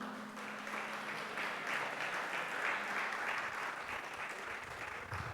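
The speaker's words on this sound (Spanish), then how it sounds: "Da otro fuerte aplauso a Jesús." Sustained applause from a church congregation, steady clapping filling the room for several seconds at an even, moderate loudness.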